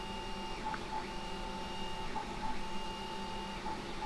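A $99 350-watt Banggood mini lathe running with a workpiece mounted, giving a steady motor whine with a high tone that repeatedly drops and rises, at moderate loudness.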